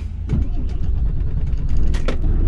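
A Volvo FM 500 truck's diesel engine rumbling heavily up close as it pulls away, with a few creaks and mechanical clicks over the steady low drone.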